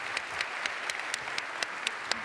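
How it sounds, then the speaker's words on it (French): An audience at an opening conference claps for a speaker, sustained steady applause with a few sharper individual claps standing out, no talking over it. "On l'applaudit."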